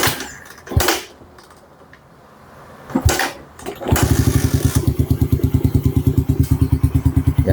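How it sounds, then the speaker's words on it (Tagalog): A Bajaj Raider 150 motorcycle with a weak battery is cranked in two short bursts, then fires up from cold into a loud, rapid, evenly pulsing idle, close and alone. "yan yung andar ng motor ni Paps. Ito cold start pa to."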